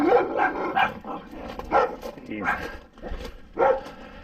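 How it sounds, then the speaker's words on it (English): Dogs bark repeatedly at moderate distance, a rapid string of sharp yaps and woofs overlapping one another. "The neighbor dogs want to eat me."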